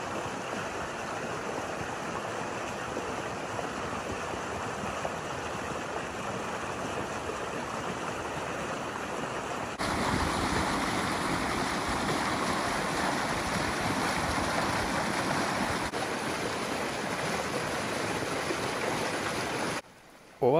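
Water flows continuously at the Izvor Oko spring near Ninski Dračevac, Zadar: a steady close rushing babble that grows slightly louder partway through and cuts off abruptly at the very end, with no voices.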